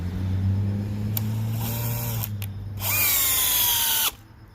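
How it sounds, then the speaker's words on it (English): DeWalt DCD996 hammer drill running in drill mode, loud close motor whine that holds steady, then revs up higher before cutting off abruptly near the end, with no speech. "I think I just had it in drill mode."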